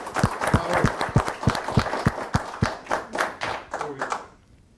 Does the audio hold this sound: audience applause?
yes